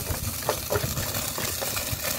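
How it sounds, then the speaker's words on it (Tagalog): Garlic and onion sauté in a hot pan for tuna pasta cooked outdoors at a farm, giving a close, steady sizzle with occasional stirring scrapes. "So, magigisa na tayo ngayon."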